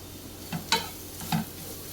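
Spices and brinjal masala with garam masala and kasuri methi being stirred and roasted in a pan, a few soft scraping strokes over a faint low sizzle.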